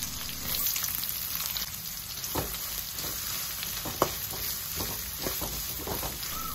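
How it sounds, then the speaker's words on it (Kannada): Mustard seeds, crushed garlic, curry leaves and onion sizzling in ghee for a Mangalorean chicken sukka, a steady close hiss with scattered pops and crackles, a few sharper spits standing out over the continuous fry. "ಇವಾಗ ಇದಕ್ಕೆ 1/4 ಸ್ಪೂನಷ್ಟು ಸಾಸಿವೆ, ಹಾಗೆ 6 ಎಸಳು ಜಜ್ಜಿದ ಬೆಳ್ಳುಳ್ಳಿ, ಹಾಗೆ 2 ಎಸಳು ಕರಿಬೇವು, ಹಾಗೆ 2 ಈರುಳ್ಳಿನ ಹಾಕಿ ಚೆನ್ನಾಗಿ ಫ್ರೈ ಮಾಡಿ"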